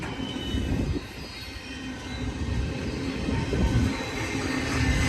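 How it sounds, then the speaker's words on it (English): A BNSF freight train on the rails at Cajon Summit rumbles steadily with continuous wheel and rail noise and faint squeals, fairly close and with no voices. "There's also a tie-down train down there."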